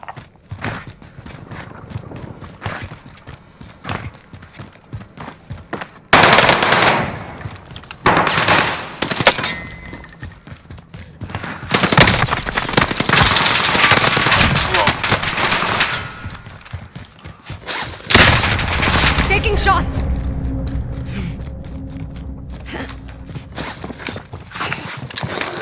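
Sustained automatic gunfire from an SMG in a shooter video game, loud dense bursts of rapid shots broken by brief pauses and quieter stretches of game ambience.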